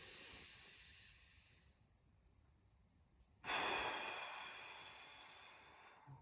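Deep, slow breathing during a thoracic mobility and relaxation exercise with a ball: a soft airy exhale that fades, a quiet pause, then a sudden louder breath that tapers off gradually, close and alone with no talk.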